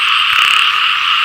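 A dense chorus of frogs calls during a frog-catching outing, a loud continuous trilling drone that fills the whole moment with no pauses.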